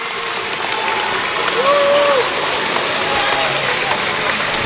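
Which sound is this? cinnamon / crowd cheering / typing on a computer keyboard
crowd cheering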